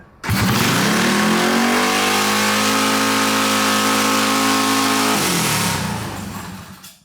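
A yard kart fitted with a 40 HP unlimited-class karting engine roars loudly at close range, climbing quickly to a sustained high-revving drone for about five seconds before the throttle eases and the engine note falls away.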